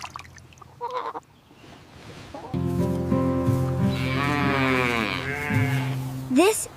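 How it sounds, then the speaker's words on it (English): A farm goat lets out one long, wavering bleat lasting a few seconds, loud and close, after a brief quiet voice-like stretch at the start and before a short final cry. "This is a goat."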